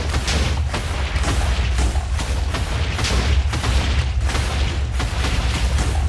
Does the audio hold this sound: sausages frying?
no